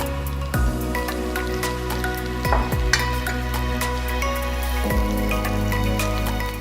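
Small pieces of capsicum and carrot frying in a pan for white sauce pasta, a steady close sizzle with a few sharp clatters from a utensil knocking the pan, and no voices.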